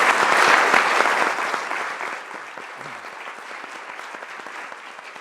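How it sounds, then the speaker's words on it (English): Audience at a science and society event applauding the college staff, a dense burst of clapping that swells and then tapers off, no talking. "join me in just a round of applause for all the people across the college that made this work"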